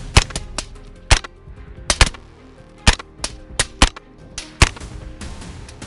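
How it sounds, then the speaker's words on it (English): Several sharp gunshots at night during a wild boar hunt, fired singly and in quick pairs at irregular intervals, each loud crack followed by a short echo. "gunshots echo through the night"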